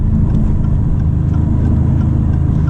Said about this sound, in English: you know you're in Corsa because the engine noise got a little louder